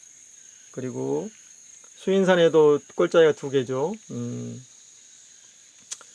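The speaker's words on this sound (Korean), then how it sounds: "귀뚜라미 우는 가을이 왔습니다." Crickets chirping in autumn, a faint, steady high trill running continuously beneath a speaker's voice.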